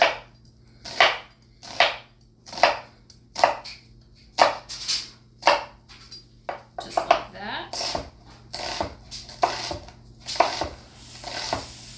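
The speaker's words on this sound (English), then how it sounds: "So we're just going to dice up our onion." An onion is diced on a cutting board for vegetarian red borscht, with a steady run of close, crisp knife chops that speed into quicker clustered cuts partway through, and no talk.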